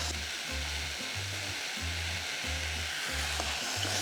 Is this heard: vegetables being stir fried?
yes